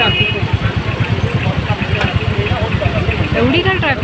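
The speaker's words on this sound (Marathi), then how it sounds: "एवढी काय ट्रॅफिक आहे." Road traffic near Kharegaon and Kalwa, with idling car and motorcycle engines rumbling steadily close by, under ongoing talk.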